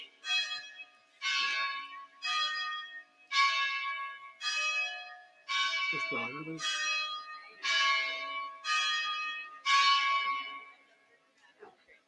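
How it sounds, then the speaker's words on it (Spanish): A church bell tolls slowly and evenly, about nine ringing strikes, each one decaying into the next, heard clearly with a faint low rumble at one point. "qué más que el sonido de las campanas que a veces doblan por los muertos"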